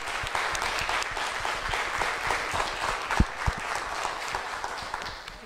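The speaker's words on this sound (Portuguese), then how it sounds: "a gente agradece com uma salva de palmas aí" An audience at a talk on pig welfare in production gives a round of applause, dense steady clapping for several seconds with a couple of sharper claps standing out.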